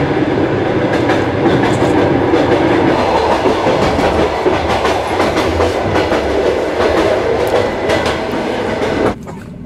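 Passenger train No. 360, travelling from Sochi to Kaliningrad through Belarus and Lithuania, rumbles loudly through a station with steady clickety-clack of wheels on rails, heard from on board until the noise drops abruptly near the end.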